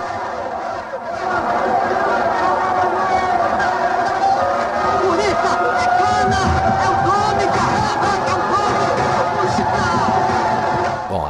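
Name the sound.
crowd cheering at a cockfight in a film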